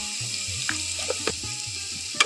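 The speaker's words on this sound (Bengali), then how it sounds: "এখন এইগুলো খুব ভালোভাবে নাড়াচাড়া করে তেলের মধ্যে ভেজে নেব।" Cut potatoes with salt and turmeric frying in mustard oil in a wok make a bright hissing sizzle over a low droning tone, with a few soft clicks and a sharp clink at the end.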